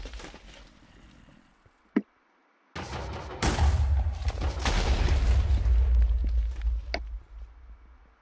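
Grenades explode in a modded Minecraft game with a gun mod: a sharp pop, then a sustained loud rumbling blast lasting several seconds before fading, with a small click after.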